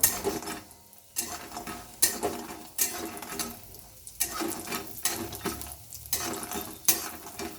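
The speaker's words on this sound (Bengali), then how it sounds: "বড়িগুলো আমি এখন ভাজছি" Bori lentil dumplings fry in oil in a wok, with a soft steady sizzle broken by regular scraping and clinks of a spatula against the metal about once a second, close and moderately loud.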